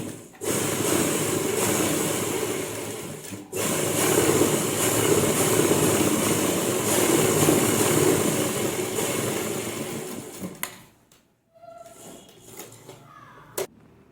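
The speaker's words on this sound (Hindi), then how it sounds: "हम बैक साइड में भी अपनी आसन की सिलाई लगा लेंगे।" A sewing machine runs steadily, stitching the seat seam on the back of ladies' pants, with one brief break early on. It stops near the end, followed by a few light handling clicks.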